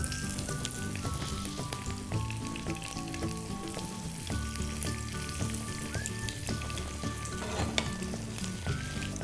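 Turmeric and curry leaves frying in oil for vangibath: a dense, continuous crackling sizzle with stirring, steady and fairly loud throughout, under faint tonal background sound.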